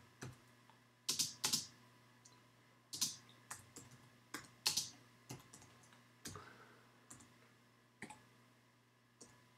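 Slow typing on a computer keyboard, with irregular clusters of sharp, close key clicks separated by short pauses over a faint steady background hum; no talking.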